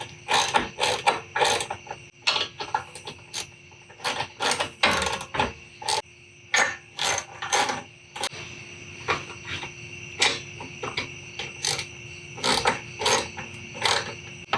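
A hand ratchet clicks in quick repeated bursts while tightening the MOLLE panel mounts on a Jeep Gladiator, with crisp close strokes separated by brief pauses.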